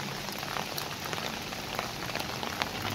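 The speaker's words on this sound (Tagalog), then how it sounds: "So, ang lakas pa rin ng ulan." Heavy rain pours steadily and loudly onto surfaces in Qatar, a dense continuous hiss with scattered drop impacts throughout and no voices.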